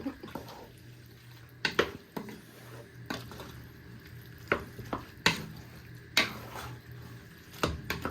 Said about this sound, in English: you're going to give it all a good toss and a good stir in